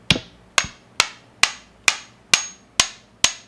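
Eight sharp, evenly spaced hammer blows about half a second apart crack open a small geode from Harrodsburg, each strike loud and close with a quick ringing decay.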